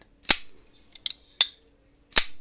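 A Hinderer Jurassic hollow-ground slicer folding knife flips open with sharp, crisp metallic snaps: four distinct clicks spaced across a couple of seconds, close and loud against near silence.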